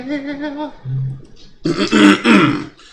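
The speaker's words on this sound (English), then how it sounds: "Pardon me while I clear my throat." A voice hums a short tune, then a loud, rough throat clearing follows in several gravelly bursts, close up.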